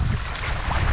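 Strong coastal wind in a rural Philippine province roars steadily against the microphone, a loud, constant rumble with gusty buffeting.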